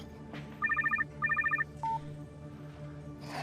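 Telephone ringing in two short bursts of rapid electronic trills, followed by a brief single beep, fairly close and clear against a quiet indoor background without talk.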